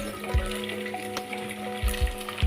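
Goat blood frying with ginger paste in a pan, a continuous soft sizzle broken by a few low scraping thumps as it is stirred.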